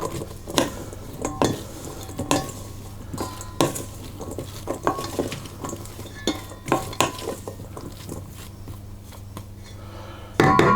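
Mustard powder being stirred into a cheese and onion pasty filling in a bowl, with repeated scraping and clinking strokes of a utensil against the bowl at a steady, close rhythm.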